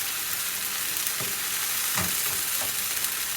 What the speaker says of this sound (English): You can keep frying well.